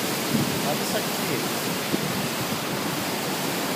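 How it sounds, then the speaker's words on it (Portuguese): A waterfall in Serra da Canastra, Brazil, gives a dense, steady roar of falling water that fills the whole clip, loud and unbroken, with no clear voices. "Olha que cachoeira top de linha."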